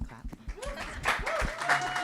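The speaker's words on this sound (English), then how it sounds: "We can clap." A festival audience at a morning film talk breaks into applause for two screenwriters, starting with a few scattered claps and building into steady clapping, with a voice speaking over it.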